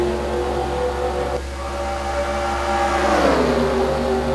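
Race cars in a NASCAR video game pulling away on the green flag at Piggz Cliff, a steady engine roar with a pack of motors building in pitch and volume, no voices over it.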